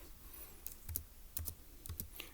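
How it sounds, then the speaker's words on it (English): Keys on a computer keyboard are pressed in short, separate clusters of crisp clicks, close and quiet, in a still room. "So let's go ahead and type that up."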